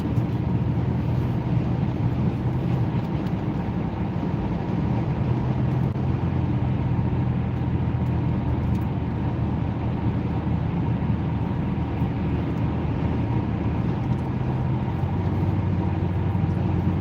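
A car cruising steadily on a highway at around 60 mph gives a continuous low road and engine rumble with broadband tire hiss, loud and unchanging throughout with no talking.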